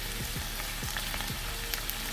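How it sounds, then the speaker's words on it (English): Garlic and vegetables sauté in a pan, a steady close sizzle with small crackling pops throughout, no voices. "While our veggies are sauteing"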